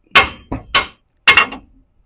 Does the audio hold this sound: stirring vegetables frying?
no